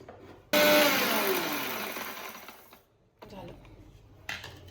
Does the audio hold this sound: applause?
no